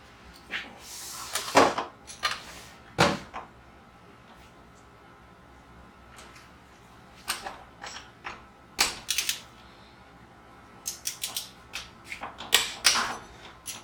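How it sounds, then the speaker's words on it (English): A torque wrench clicks while bolts on a Rhino Multi-Pro post driver are tightened to 21 foot-pounds. Several sharp, crisp clicks come in scattered bursts against a quiet background, with no voices. "take a torque wrench, and we torque these at 21 foot-pounds."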